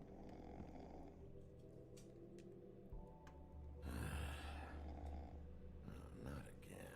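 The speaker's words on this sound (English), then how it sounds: "I hear something snoring." A pig-like character snores in The Wolf Among Us video game, a low rumbling snore swelling midway against quiet game ambience and faint ticking.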